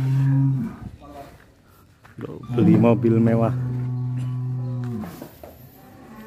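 Large monster cattle in a barn lowing: a long deep moo at the start, then another sustained loud moo from about two to five seconds, with someone speaking in between and over it.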